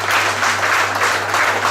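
An audience claps at a restaurant award ceremony, a loud, continuous patter of hands that stays steady for the whole stretch, with a low constant hum underneath.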